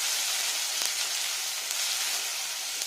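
Cumin paste sizzles in hot oil for a vegetarian fenugreek-leaf dish, a steady dense crackling hiss throughout with a couple of faint clicks.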